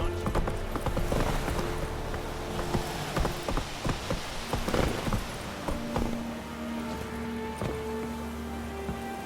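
Galloping hoofbeats from a horse in The Witcher 3 thud in a quick steady rhythm against rain-like background ambience, fairly close and with no one speaking.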